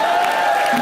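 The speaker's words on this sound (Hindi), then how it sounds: "जोरदार तालियां।" Studio audience at a comedy show applauding and cheering, a steady dense wash of clapping with crowd noise throughout a short burst.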